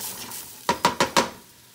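Vegetables seasoned with black pepper stirred in a pot for chicken soup, four quick scraping stirs with a soft sizzle beneath, close and fairly loud against a low background hiss.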